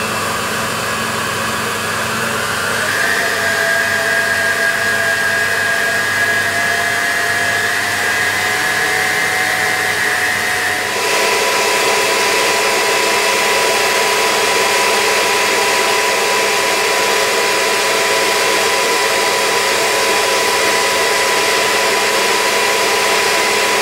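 An electric mixer hums steadily as it creams soft butter for chocolate brownies, a loud continuous whir that shifts to a higher speed partway through, with no talking.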